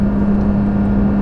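A Porsche 992 GT3 drives on the road with a steady, loud engine drone and a strong sustained low tone, heard close up for a brief moment with no talking.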